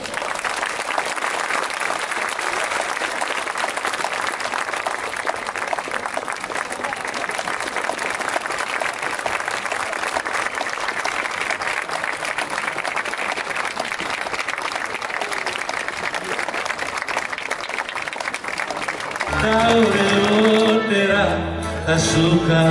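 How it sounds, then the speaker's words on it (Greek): A theatre audience at a disability association event applauds steadily and loudly for about twenty seconds, a dense wash of clapping from a crowd, before music starts at the very end. "με το δυνατό σας χειροκρότημα να τους εμψυχώσουν"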